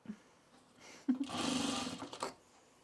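A short run of a sewing machine stitching trousers, starting with a sharp clack and a brief whir that settles into a steady hum before stopping.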